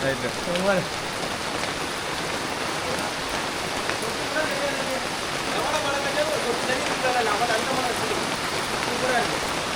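Heavy rain pours steadily and close by, a dense continuous wash of drops hitting surfaces, with faint voices talking underneath.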